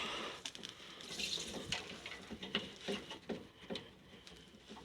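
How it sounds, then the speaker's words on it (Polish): Water splashes and patters into a container in uneven bursts while being poured for miniature bantam Cochin chickens, close by, with no talking. "No już woda nalana."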